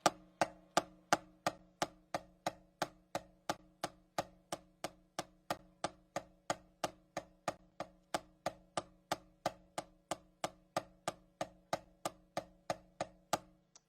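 Steady, evenly spaced drumstick strokes on a practice pad, sharp and loud, repeating at a slow, even tempo with no talking.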